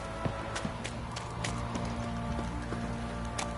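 Horse hooves clip-clop steadily in The Witcher 3 on PS4, a run of evenly spaced, fairly close hoofbeats over a constant low game ambience and hum.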